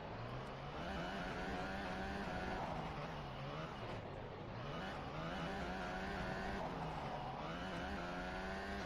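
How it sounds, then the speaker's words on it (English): Onboard Formula 1 car at the 2025 Spanish Grand Prix sprint, its engine a continuous loud high-pitched drone rising and falling with gear changes through the lap, heard alone. "let's get a replay on board of Ocon of what happened there on lap 1"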